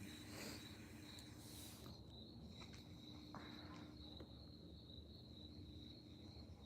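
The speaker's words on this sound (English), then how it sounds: "Oh, crickets. He hears his brethren out there." Steady high-pitched cricket chirping fills the background continuously, with faint scattered rustles and taps nearby.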